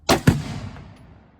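Two sharp .22 rifle shots fired in quick succession at a shooting range, close and loud, the second with a heavier thump, followed by a short fading echo.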